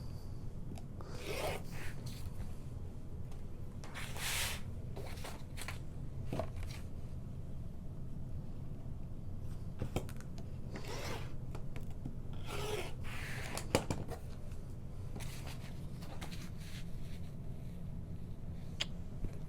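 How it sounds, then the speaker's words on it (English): Fabric pocket lining being cut along a 13 by 13 ruler, giving soft repeated rasping and rubbing strokes in bursts over a steady quiet background, close and fairly faint, with no talking. "I'm using my 13 by 13 ruler to cut out this pocket lining."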